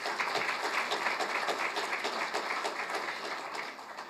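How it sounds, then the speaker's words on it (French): An audience applauds at an awards ceremony for a 2023 hackathon prize-giving, with a steady, even patter of many hands heard from some distance that softens slightly near the end. "Et donc, vraiment, il faut les applaudir"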